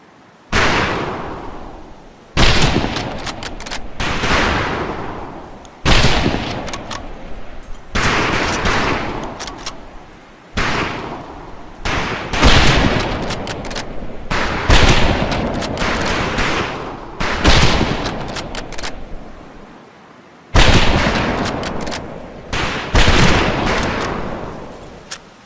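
Rifle target-practice gunfire in the video game Medal of Honor Pacific: loud, sharp shot bursts in rapid volleys separated by short pauses, repeated throughout with echoing tails.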